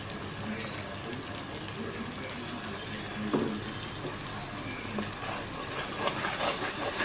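Ground onion paste with ginger garlic sautéing in a pan for coconut milk rice, a steady moderate sizzle with occasional stirring scrapes, heard alone without talk.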